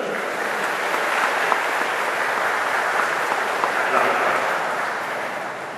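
A church congregation breaks into applause during a Mid-Autumn Festival Mass in Vietnam, with sustained, fairly loud clapping from many hands that tapers slightly toward the end, with no speech over it.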